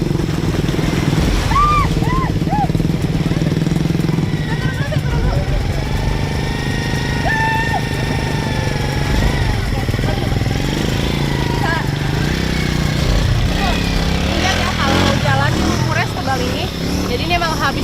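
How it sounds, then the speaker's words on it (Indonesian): A motorcycle engine labours through deep mud puddles on a rural track after rain, droning steadily and churning close by, with a voice talking over it throughout. "Jadi ini memang habis hujan kondisinya dan motor juga kesulitan melintas"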